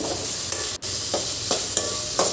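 Panipuri masala being stirred and sautéed in a pan, a steady sizzle under repeated scraping strokes of a spoon at a moderate rhythm, close and fairly loud.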